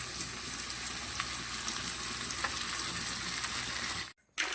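Nangu fish curry simmers in a pot after the fried fish has gone into the water, giving a steady, close bubbling hiss that holds evenly before a sudden brief cut near the end.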